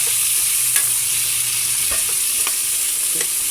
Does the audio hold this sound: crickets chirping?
no